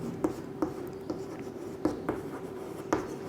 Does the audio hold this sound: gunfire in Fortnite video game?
no